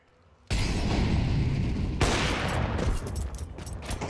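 Dense, rapid gunfire from a Counter-Strike match between FURIA and NAVI Javelins at the ESL Impact League finals, loud and continuous from the first half-second, with overlapping shots and a fresh burst midway.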